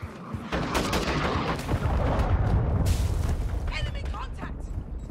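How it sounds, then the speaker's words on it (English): Cruise missile strike explosions in Call of Duty Modern Warfare 2 rumble continuously with heavy booms and gunfire layered together, loud and sustained throughout. "Friendly cruise missile approaching target."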